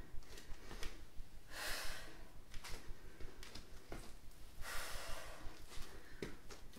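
Forceful breaths pushed out during a twisting fitness exercise, two strong airy exhales a few seconds apart with lighter breathing between, close and alone without talk.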